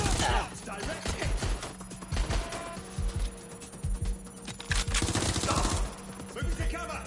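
Gunfire in the video game Watch Dogs Legion pops in scattered, fairly quiet bursts and single shots over a busy game background, with voices calling out in between.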